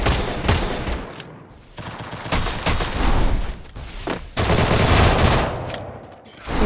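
Gunfire in a shooting video game: rapid bursts of automatic fire crackle loudly and densely, broken by short pauses, with sharp single shots between the sustained volleys.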